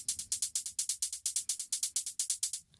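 Drum pattern programmed on an OP-XY synthesizer with low-velocity kick steps for sidechain pumping: a fast, steady run of crisp hi-hat-like ticks, each swelling and cut short, quiet and even throughout.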